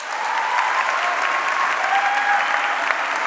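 Sustained applause from a large audience at a conversation event with Simon Sinek and Reggie Yates, steady and dense throughout with faint crowd murmur beneath, no speech on top.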